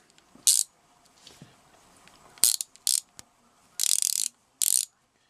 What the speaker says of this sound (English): Basically just a regular 3/8 inch ratchet now.